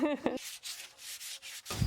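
Framing lumber of an outdoor sofa being lightly sanded after a coat of finish: a few short, soft rhythmic rubbing strokes in quick succession, with brief voice sounds at the start and end.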